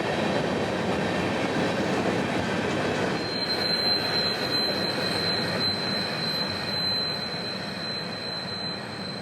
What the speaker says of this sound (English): 24 two-bay hoppers for CSX would bring up the rear, making up for quite the train tonight